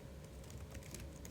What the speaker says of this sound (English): So actually going to be doing a little bit of typing today